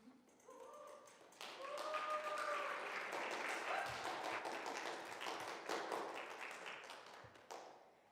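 A church livestream audience breaks into sustained applause after a prayer, a broad steady clapping that swells in quickly, holds for several seconds and fades, with a few brief sung or spoken tones at the start.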